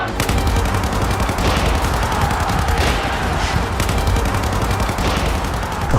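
Police open heavy, rapid gunfire on a crowd of protesters, a dense unbroken barrage of loud crackling shots that runs throughout like a fusillade, with no speech on top.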